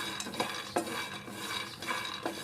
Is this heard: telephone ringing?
no